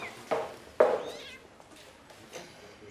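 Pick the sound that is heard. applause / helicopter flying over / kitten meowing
kitten meowing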